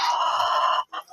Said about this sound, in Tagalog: Karon guys, magpatuwa ko sa mga manok.